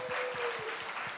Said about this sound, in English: So round of applause for amazing organizers that we got yet another edition of this fantastic conference.